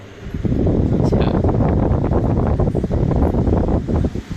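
Steady, close airflow roar from an electric table fan, a constant broadband whoosh with slight fluctuations, no talking.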